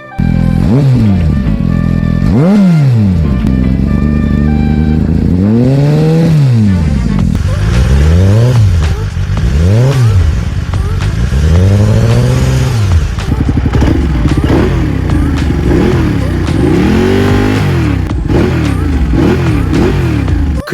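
A two-cylinder Ducati motorcycle engine revs again and again, its exhaust note rising and falling in repeated throttle blips, loud and close, with no voices.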